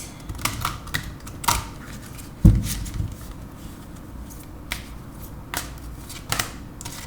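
Oracle cards from a color-themed deck shuffled by hand during a tarot reading, giving repeated soft riffling and flicking bursts with one sharper slap near the middle, close and fairly quiet, with no talking.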